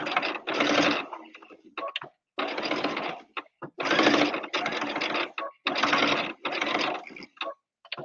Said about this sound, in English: I'm gonna sew about a quarter inch away from the raw edge here